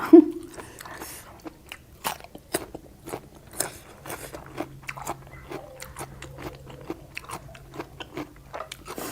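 Large blanched shellfish being eaten, with close, repeated crunchy bites and chewing in an uneven rhythm, quiet between bites.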